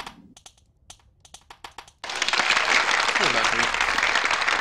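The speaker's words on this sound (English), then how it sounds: "Give everybody a round of applause there." Players at an online game gathering in Shroud of the Avatar give a round of applause, sparse key-like taps first, then a sudden dense wash of clapping and crowd noise with a voice faintly under it.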